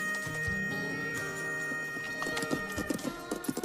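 A horse being ridden in a film, its hooves clip-clopping in a loose uneven rhythm that grows more distinct toward the end, under a thick layered soundtrack with what sounds like a whinny.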